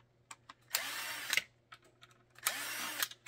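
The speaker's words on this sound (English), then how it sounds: "which is also the reason why I use an impact drill, because you get that oomph of removing that" An impact drill backing screws out of a CZ P07 pistol part, heard as two close, loud bursts of whirring and hammering, each lasting roughly half a second to a second, with short clicks and pauses between.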